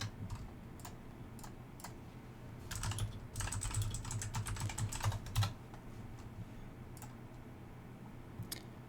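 Typing on a computer keyboard while searching an online database for a New World crafting guide, a steady run of light clicks with a denser, louder flurry of keystrokes in the middle, close and with no talking.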